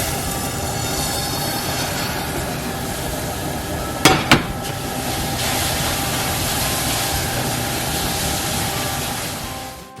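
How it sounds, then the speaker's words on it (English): Constant broadband sizzling and hissing as hot rice fries in tomato sauce in an oil-free pan, with a pair of sharp metallic clanks partway through, close and fairly loud. "I'm tossing this in and you can hear it all sizzling together"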